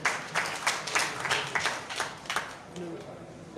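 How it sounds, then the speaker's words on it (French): Audience at a political conference in Mali clapping for a comrade, a short burst of scattered, uneven applause at moderate distance that fades toward the end. "Applaudissez pour camarade Ben Serbo"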